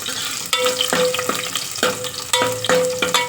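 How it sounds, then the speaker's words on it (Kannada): Tempering for a vegetable sambar sizzles and crackles in a hot pan, with repeated sharp stirring scrapes and clinks of a utensil against the metal, close and fairly loud with no voices. "ಆಲ್ರೆಡಿ ಒಗ್ಗರಣೆ ಬೇಯಿತು"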